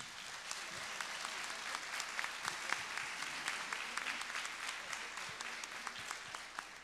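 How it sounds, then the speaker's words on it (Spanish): Sustained audience applause fills a book presentation hall, steady dense clapping with a few sharper individual claps standing out, continuing evenly without voices. "a quien pido un muy fuerte aplauso"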